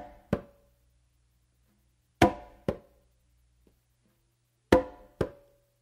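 Congas played in a samba pattern, with bass tones on the tumba and finger strokes, sound as sparse, sharp hand strikes in short pairs with quiet gaps between, close and clear.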